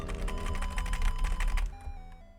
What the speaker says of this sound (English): Just doing keyboard ASMR, man.